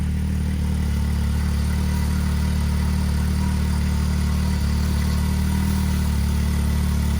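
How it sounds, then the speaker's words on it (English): Side-by-side engine, a Polaris RZR or Can-Am X3 fitted with an RPM blow-off valve, running during an underwater torture test, a loud steady low drone held close throughout. "So in this video, you can kind of see us, again, torture test a blow-off valve."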